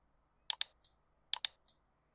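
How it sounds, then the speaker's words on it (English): A computer keyboard clicks in two short bursts of about three keystrokes each, crisp and close against near silence. "let me retype one of the headings, the Table of Authorities heading"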